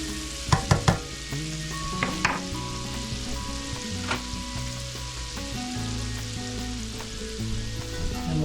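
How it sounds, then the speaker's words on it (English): Minced garlic sizzles in melted butter in a pan for shrimp, a steady close frying hiss with a few sharp spatula clinks early on and no talking. "minced garlic in the pan for the shrimp. Let that get in with the melted butter."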